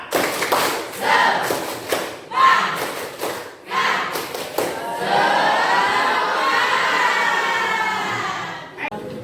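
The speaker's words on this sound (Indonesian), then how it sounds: "1, 2, 3, tepuk semangat." A group of teachers and staff perform the tepuk semangat rhythmic clapping chant during a school coaching session: bursts of sharp claps under shouted chanting voices, then a sustained loud cheer from the crowd.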